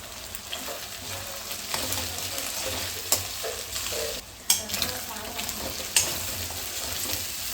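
Prawns frying in a pan with turmeric and ginger-garlic paste, a steady close sizzle with occasional sharp clinks and scrapes of stirring, no talking.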